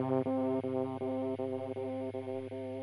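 Distorted, saturated echoes from a Soundtoys EchoBoy delay plugin repeat a harmonic tone in a steady rhythmic pulse, about eight repeats in under three seconds, loud and gritty with no voice.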